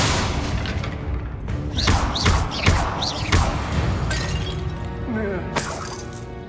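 Confringo and Bombarda spell blasts in Hogwarts Legacy, a series of sharp booming impacts and crackling bursts in quick succession, with magical whooshes and a bright shimmering flourish near the end.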